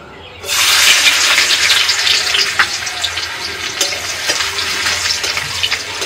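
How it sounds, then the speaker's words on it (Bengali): Chopped garlic frying in hot white oil in a wok, with a loud, steady, close sizzle that bursts in abruptly after a brief quiet start and continues without any talking. "রসুনটা একটু লাল করে ভেজে নিয়েছি"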